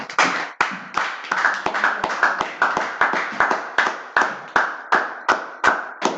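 A church congregation at a French-language Sunday service claps in a steady, loud, even rhythm, with many sharp hand claps following one another.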